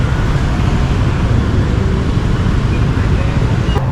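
Busy street traffic on a Saturday night in Vietnam, a loud, dense and continuous roar of vehicles that holds steady throughout with no clear gaps.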